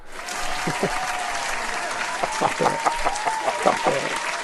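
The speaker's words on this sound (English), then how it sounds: "Keep that canned clapping coming." Canned applause sound effect played during a live stream: a steady, dense wash of studio clapping and light crowd noise, with a voice speaking over it in bursts.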